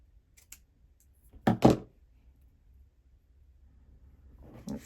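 Ribbon scissors snip through ribbon while a bookbinding Z fold card is made: a couple of faint early clicks, then two close, crisp cutting snips in quick succession, followed by quiet and a soft rustle near the end.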